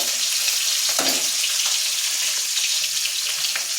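Rohu fish frying in a pan, a steady bright hiss of sizzling oil running throughout with faint occasional clinks, no voices.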